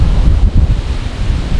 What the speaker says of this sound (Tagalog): Narinig nyo ba yung hangin?